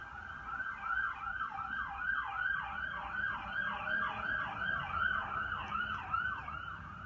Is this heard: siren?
yes